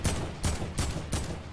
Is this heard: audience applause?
no